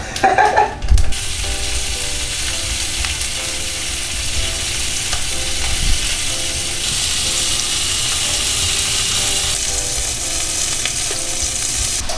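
A lobster cooks in butter and its own juices in a pot, hissing in a steady close sizzle with faint mechanical ticking tones in the background.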